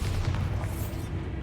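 Bombarda blasting spell detonating in the Hogwarts Legacy video game, a deep rumbling boom with a low, sustained tail that fills the short moment.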